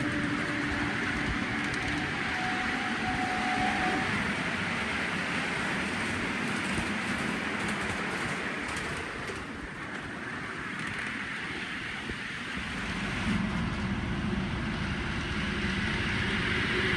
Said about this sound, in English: all of the trains were going around to the left and through the tunnel